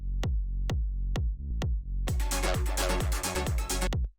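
Punchy acid techno kick drums thump on a steady four-count beat, then hi-hats, percussion and a bass line join in, sounding dry and unblended with no group processing.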